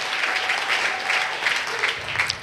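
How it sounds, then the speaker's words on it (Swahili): Church congregation applauding for Jesus: dense, steady clapping from many hands fills the whole moment, loud and close with no pause. "pige Bwana Yesu makofi zaidi"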